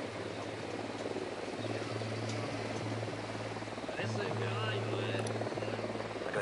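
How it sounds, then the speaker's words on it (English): A drone hovering overhead in the tactical shooter Ghost Recon Wildlands, a steady low rotor drone with a wavering pitch that holds for the whole stretch alongside faint background activity. "Drone is up."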